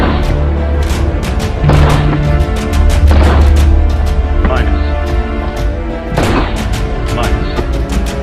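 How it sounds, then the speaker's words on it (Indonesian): Gunshots fired right beside a motionless sniper trainee in a war film, several heavy booming blasts spaced a second or two apart over a low rumbling background, with a narrator talking over them. "instruktur menembak tepat di samping tubuhnya"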